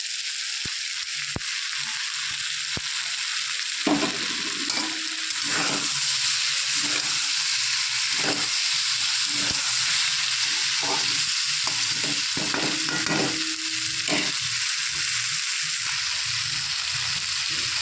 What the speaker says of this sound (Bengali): এবার দিয়ে দেবো নুন হলুদ দিয়ে মেখে রেখেছি মাছ